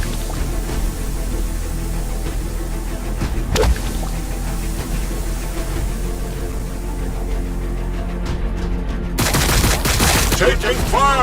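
Dense battlefield gunfire from Warhammer 40k Battlesector, a continuous fusillade of rapid shots with a sharp crack near the middle and a louder burst of fire near the end, loud and close.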